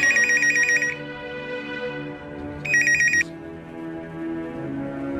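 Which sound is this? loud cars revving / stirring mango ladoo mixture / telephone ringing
telephone ringing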